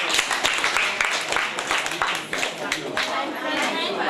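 Students at a school in Mattru Jong, Sierra Leone clap for themselves, a steady burst of crowded applause with overlapping chatter and voices throughout.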